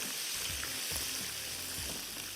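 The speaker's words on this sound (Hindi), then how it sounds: "अब इसको पहले ये बैच फ्राई करके निकालेंगे" Chicken wings deep fry in hot oil with a steady, dense sizzle and bubbling that fills the background continuously, loud and close, no talking.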